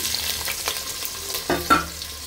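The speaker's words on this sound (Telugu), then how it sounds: "బాగా డీప్ ఫ్రై చేసుకోవాలి. మనకు బ్రౌనిష్ కలర్ వచ్చేంత వరకు మనం డీప్ ఫ్రై చేసుకోవాలి." Onions deep fry in hot oil for a mutton lungs fry, making continuous bubbling sizzle with scattered crackles and a couple of louder pops near the end.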